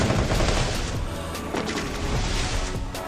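Gunfire from an AWM sniper rifle in a shooting video game, a steady dense stream of loud shots and impacts with no gaps, including a body hit.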